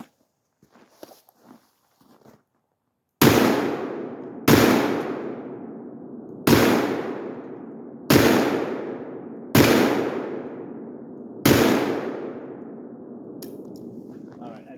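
Six loud big-bore rifle or handgun shots fired at a target for bear defense practice, spaced one to two seconds apart, each a sharp crack with a ringing tail, after some quiet handling sounds.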